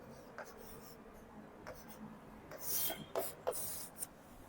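Marker or chalk scratching on a board during a Hindi biology lesson. Several short strokes are quiet at first, then come in quick, louder bursts near the end, heard alone without speech.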